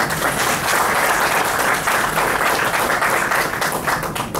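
A hall audience at a Hindi university lecture in Puducherry claps loudly and steadily to welcome a speaker, the dense applause sustained throughout without a break.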